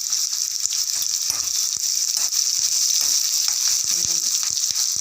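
Green chilies and garlic frying in hot oil in a pan, a steady hissing sizzle with a few light clinks of a stirring spoon, close and continuous.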